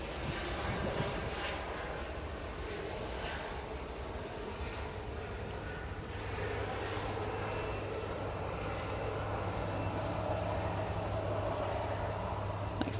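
Boeing 737 MAX jet departing for Palma, a continuous engine roar with a low droning hum underneath, steady and fairly distant throughout, without speech.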